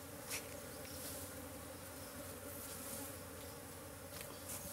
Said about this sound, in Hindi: सारी मक्खियां जोरदार हो रही है।